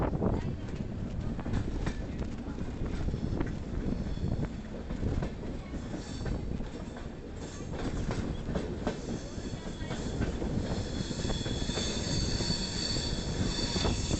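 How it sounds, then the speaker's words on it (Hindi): Wheels of the Andhra Pradesh Express running on the track, a loud continuous rumble with rhythmic clacking and metallic squeal, heard from on board; someone talks over it at times. "दोस्तों ट्रैक साउंड सुनो, ट्रैक साउंड।"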